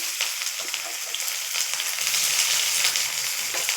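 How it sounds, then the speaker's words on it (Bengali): Chopped onion fries in hot oil after tempering spices, with a dense, steady sizzle and crackle and a few soft stirring scrapes, close and continuous. "পেঁয়াজটা আমি ভালো করে ভেজে নেব, বাদামি কালার করে ভেজে নেব"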